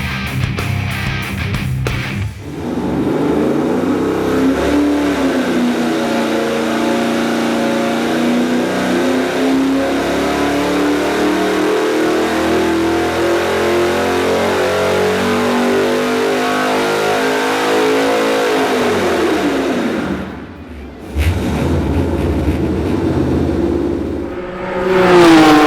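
Supercharged LS3 V8 fitted with an LS9 camshaft runs on a dyno, revving loud and steady with a rising pull, briefly dropping off near the end before picking back up, with no talking.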